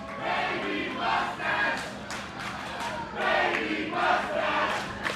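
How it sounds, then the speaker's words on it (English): A wrestling crowd at an intergender tag match jeering a wrestler, with rising and falling waves of shouting and hooting voices that fill the venue from a distance. "Crowd giving Teen a hard time about the mustache here."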